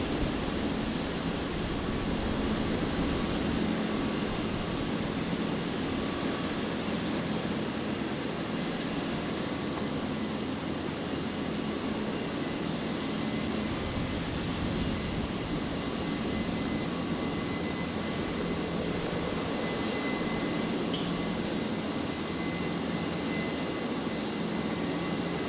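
An Alliance Airlines Fokker in Southern Cross special livery at Brisbane airport gives off a steady jet engine hum, distant and fairly faint, unbroken throughout with no talking.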